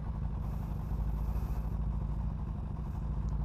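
A Kawasaki Ninja 250 motorcycle engine runs at a steady idle, with a low, even thrum that is fairly faint and uninterrupted by speech.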